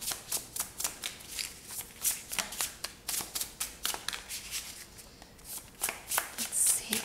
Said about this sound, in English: let's go ahead and take these cards. We're going to shuffle them.